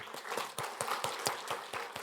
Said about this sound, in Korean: 우리 생일 축하 감사의 박수를 올려드리겠습니다.